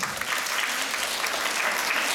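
Audience applause at the final of a junior small-group modern dance competition, a dense, steady clatter of many hands clapping that holds evenly at a fairly loud level throughout.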